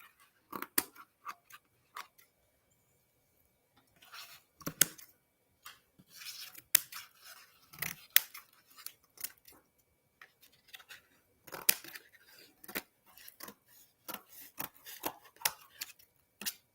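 Scissors snip plant stems while trimming stragglers from a potted plant, giving scattered short crisp clicks and cuts in irregular bursts, close and fairly quiet with pauses between runs.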